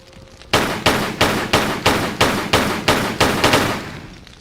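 Gunfire in the video game Tomb Raider III: about a dozen sharp, loud shots fire in an even, rapid rhythm after a brief quiet start.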